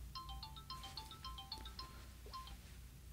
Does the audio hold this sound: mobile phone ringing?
yes